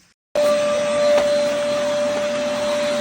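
A cordless handheld vacuum cleaner switches on abruptly after a brief silence and runs with a steady, loud motor whine and airy rush, close and alone.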